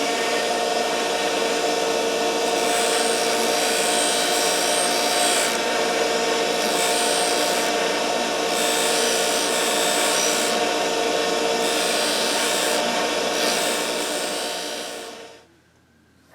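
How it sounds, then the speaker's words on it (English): A 3M Scotch-Brite EXL deburring and finishing wheel cleans up the metal of a Stanley socket chisel, a steady loud whirring rub with pulsing grinding bursts that runs continuously, then winds down and stops near the end. "it's actually a 3M Scotch-Brite EXL deburring and finishing wheel"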